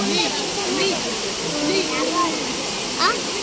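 Artificial waterfall in a theme garden, a steady broadband rush of falling water running throughout, with people talking over it.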